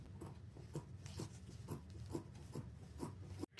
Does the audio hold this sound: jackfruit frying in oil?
no